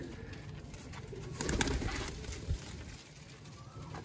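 Pigeons of a prized breeding line coo softly at close range, a few low murmuring calls rising briefly over steady background noise.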